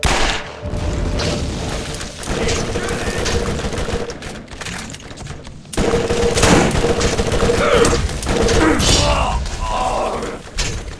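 Gunfire in the Borderlands video game: loud, close bursts of shots and thuds in quick clusters, with game sound effects and someone talking throughout.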